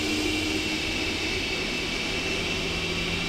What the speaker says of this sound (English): Listen to those engines, though. What a sound!